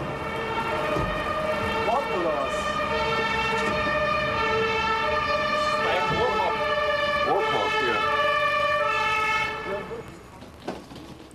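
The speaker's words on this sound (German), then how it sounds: "Sein Martinshorn ist aber schon zu hören." An ambulance siren (Martinshorn) in Berlin in 1996 rings out as a loud two-tone wail that repeats steadily and then fades near the end.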